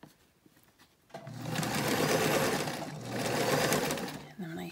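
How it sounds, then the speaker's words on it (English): Sewing machine stitching a fitted face mask with elastic, starting abruptly after a quiet moment and running in a steady, close whirring hum that briefly slows and picks up again. "I backstitch over it a bunch of times to secure it."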